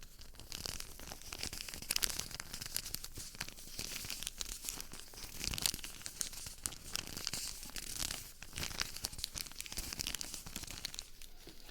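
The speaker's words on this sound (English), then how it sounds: "there are these bandage packaging sounds that like" Continuous crinkling and rustling of thin plastic bandage packaging, handled up close with steady crackly texture and no talking.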